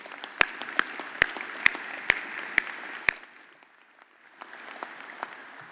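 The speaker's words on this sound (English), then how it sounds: "a big round of applause" An audience applauds at a veterans memorial and museum event. A run of sharp, evenly spaced claps sounds close by over a wash of crowd clapping, then fades to a softer patter.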